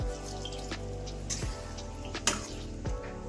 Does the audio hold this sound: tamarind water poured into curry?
yes